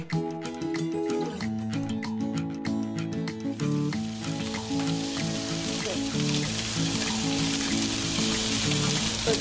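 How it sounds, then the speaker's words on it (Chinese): Pork belly is laid into a hot pan with no added oil. After a few seconds of quieter background music, a loud, dense sizzle takes over and stays constant and close until the end. "因为这五花肉做油的嘛，咱就直接给它摆落去"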